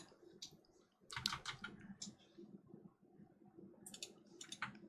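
Computer mouse clicking at a desk: a few sharp, quiet clicks in small bursts over a low, steady room background.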